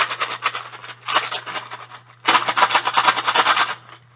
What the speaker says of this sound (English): it sounded like a rattling sound, right? But it was actually staples.